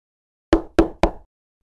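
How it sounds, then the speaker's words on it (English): Three sharp, evenly spaced knocks on a door in a children's puppet show of Little Red Riding Hood, close and clear with silence before and after. "when suddenly she heard a knock at her door"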